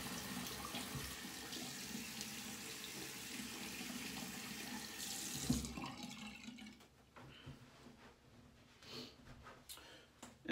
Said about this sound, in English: So you rinse my hand here and wash it.